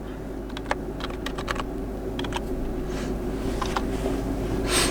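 Keys clatter on a computer keyboard in quick irregular bursts of taps, close and fairly quiet over a steady low background hum, with no talking.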